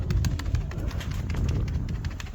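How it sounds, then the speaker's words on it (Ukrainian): A red-banded pigeon coos softly and continuously, close by and fairly quiet, with a low rumbling background and no talking. "Красивий цей голубчик"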